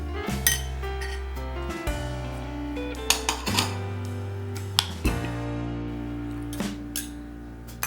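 A spoon clinks and scrapes against a bowl while a carrot, onion and cucumber salad with coriander, salt and pepper is mixed. The repeated close taps and rattles come at an uneven rhythm over a low steady hum.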